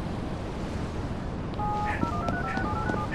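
Phone keypad tones from the video game Gangstar Vegas, a run of short beeping tones in a stepped pattern over steady background noise, ending as the call connects.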